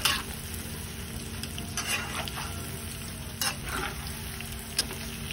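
Tofu cubes fry until crispy in hot oil, a continuous close sizzle with occasional stirring scrapes and clinks against the pan.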